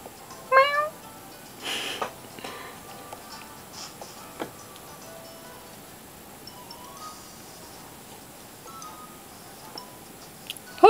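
Cartoonish meows from a cat in a Pokémon-style video game, a few short calls early on, then sparse ticks and clinks over quiet game ambience.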